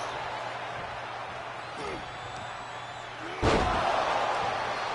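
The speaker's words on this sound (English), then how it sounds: "Big power slam by Tony Atlas." A wrestler is driven down in a power slam onto the ring mat in WWE 2K24, landing as one loud, heavy boom over steady arena crowd noise and commentary.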